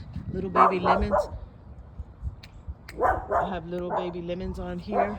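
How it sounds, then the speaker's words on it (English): Several dogs bark in clustered bursts somewhat in the background during an outdoor garden walk among lemons and peppers, while someone talks over them. "Excuse the dogs."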